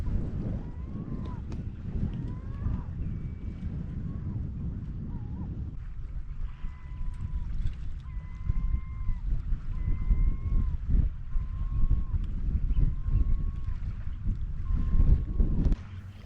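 Small sailboat drifting gently along the River Blackwater in Essex, with a steady low rush of wind and water throughout and faint repeated bird calls, likely gulls, off in the distance; no one speaks.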